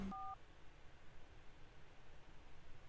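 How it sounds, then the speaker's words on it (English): Phone dialing tones in the video game Three Fourths Home: a single short electronic tone blip at the very start, then only a faint, steady hiss. "Somebody's phone."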